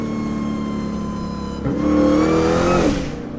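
A hoodless 1,000 horsepower Dodge Demon Charger engine revs hard and loud, its steady roar swelling into a higher surge with a strong supercharger whine, then easing back.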